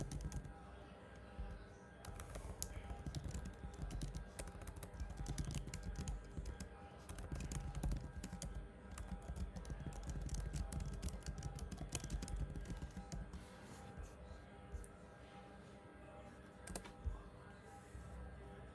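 Rapid clattering keystrokes on a computer keyboard as a question is typed, a dense, continuous run of close-up clicks that thins out toward the end.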